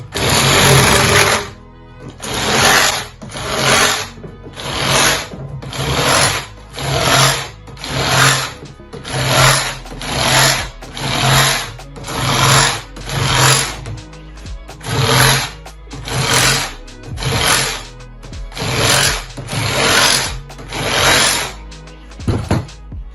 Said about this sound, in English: Now I'm going to use my hacksaw, a bit tidier, but you can use a grinder